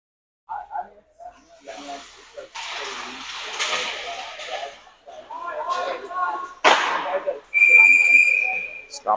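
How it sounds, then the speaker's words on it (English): A referee's whistle shrills sharply near the end of an ice hockey game sequence, following scraping skates, thuds and crowd noise, with voices heard around it. "whistle blown"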